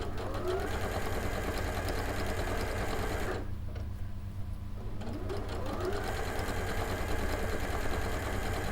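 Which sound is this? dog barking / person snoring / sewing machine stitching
sewing machine stitching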